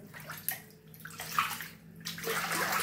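Water sloshing and splashing in a flooded kitchen, with intermittent swishes and a continuous watery wash throughout.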